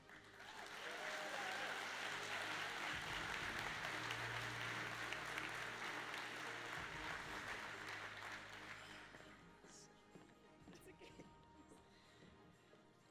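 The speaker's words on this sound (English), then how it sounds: "come on, we can clap" Audience applause fills a 2025 Top 50 CEO Awards ceremony, a steady sustained clapping that runs for about nine seconds before tapering off into quieter room sound.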